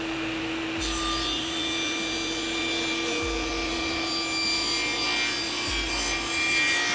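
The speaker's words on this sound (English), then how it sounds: "I'm just going to run it through a 90-degree blade and just trim that off just a hair." Table saw with a 90-degree blade trimming sharp edges off wooden French cleats: a steady, loud motor whine with the blade biting into the wood in three separate passes, and no talking.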